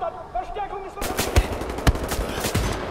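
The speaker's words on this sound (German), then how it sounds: "Mann, hör auf mich anzuschießen, sonst kann ich nicht zielen." Rapid bursts of enemy gunfire in the shooter game Wolfenstein: The New Order, several loud, sharp reports and machine-gun rattles over a second and a half, following a stretch of quieter game sound with a voice speaking.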